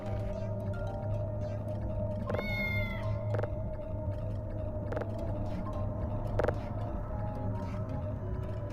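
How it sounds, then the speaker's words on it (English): Cat meowing inside the Voices of the Void video game, a short rising series of tonal meows around the middle, set against a steady low droning hum with occasional soft clicks. "You should pat the cat a lot, really fast."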